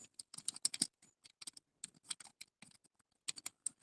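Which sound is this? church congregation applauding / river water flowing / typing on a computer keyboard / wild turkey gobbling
typing on a computer keyboard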